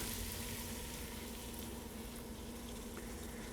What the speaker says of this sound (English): I'm going to add the broth from one of these cans of clams